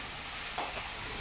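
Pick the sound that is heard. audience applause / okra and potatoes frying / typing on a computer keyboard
okra and potatoes frying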